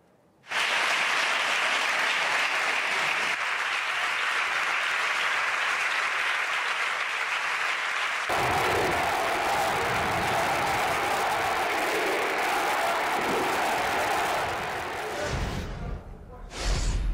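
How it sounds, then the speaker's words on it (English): A crowd outside the Catalan parliament in Barcelona cheers and applauds after the independence vote, a loud continuous roar of clapping and cheering that swells midway and carries on for the whole stretch. "Both pro-independence lawmakers and crowds of people outside the parliament did not hesitate to show their elation."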